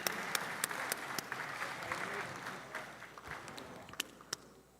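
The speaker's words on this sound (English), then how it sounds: "Let's give them a round of applause." Applause in the House of Representatives session hall welcoming visiting guests: a steady wash of moderate clapping with a few sharper, closer claps standing out, tapering off toward the end.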